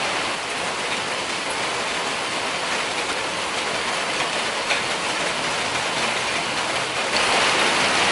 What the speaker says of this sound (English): I wouldn't say it's spitting, I would say it's raining, but not heavy